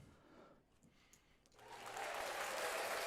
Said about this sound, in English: I feel like we have to use the applause for everybody that wins